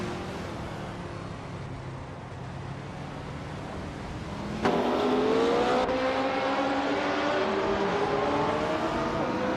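Race cars roar around a track in a racing video game, their engines a steady droning whine that jumps louder and higher halfway through as another car closes in, with no speech.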